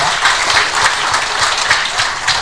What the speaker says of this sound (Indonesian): tepuk tangan untuk S2